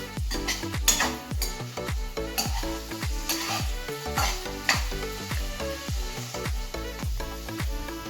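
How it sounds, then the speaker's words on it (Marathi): Paneer pan-roasting in a pan, a continuous sizzle under a steady, rhythmic pattern of repeated clinking and knocking, close and fairly loud throughout. "पनीर थोडंसंच भाजायचं म्हणजे पनीर मऊ पण राहतं. छान गोल्डन फ्राय होतं भाजायचं, तळायचं."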